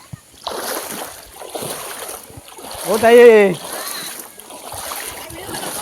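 Feet wade through river water beside a village swimming pool where local children bathe, splashing and sloshing amid outdoor ambience while someone speaks briefly and a loud vocal burst cuts through midway.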